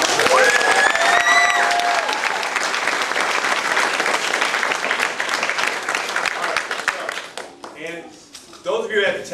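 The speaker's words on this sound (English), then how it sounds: "Give Jake a round of applause." A crowd at a martial arts belt ceremony claps and cheers loudly and steadily for Jake, the dense applause fading toward the end as a voice starts speaking over it.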